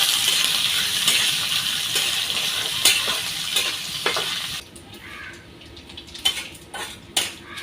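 Dried fish frying in a pan for a village-style shutki dish, with a steady sizzle, then a series of clinks and scrapes of a utensil against the pan as the fish is lifted out.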